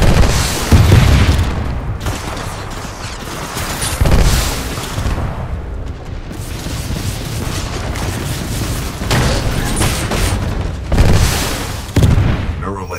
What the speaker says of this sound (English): Shoulder-mounted rocket pod will lock onto multiple enemy targets.